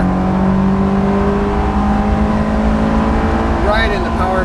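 Honda S2000 engine held high in the rev range, around 7,000 RPM in fourth gear, a loud steady whine while driving, with a brief voice near the end.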